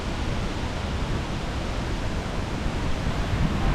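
Steady broadband roar of rushing water at Wachirathan Waterfall, loud and constant with no breaks, heard up close with some wind across the microphone.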